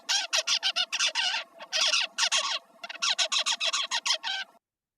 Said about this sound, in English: they start out by producing a highly variable babbling called subsong that sounds like this